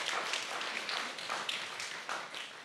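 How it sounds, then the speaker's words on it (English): Brief, fairly faint clapping from a small crowd at a live comedy podcast show, a scattered patter of hands that lasts only a few seconds and has no voices over it. "Give him another round of applause."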